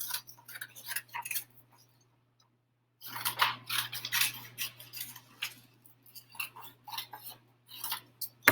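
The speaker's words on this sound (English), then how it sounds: "You're going to cut this all the way around the outside" Scissors snip around the outside of a paper foldable, with quick crisp cuts in short bursts, a brief pause, then steady cutting close by with no talking.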